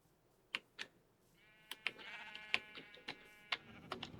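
Sheep in the Minecraft video game bleat in short, repeated calls scattered across the clip, faint and close, with a low ambient tone filling the gaps.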